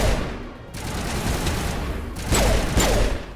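Pistol shots in the Mass Effect video game, two or three sharp reports late in the clip over a steady background of game ambience and hum.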